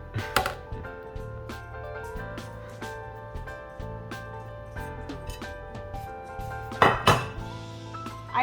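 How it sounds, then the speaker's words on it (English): Ground ginger, cloves and nutmeg whisked together in a bowl make light metallic clinks and taps close by, scattered through the clip with a busier burst near the end, over steady background music. "And now you're just going to whisk it all together."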